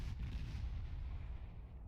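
Naval gunfire in the warship game World of Warships: a muffled, distant booming rumble that rolls on steadily at low volume without clear separate shots.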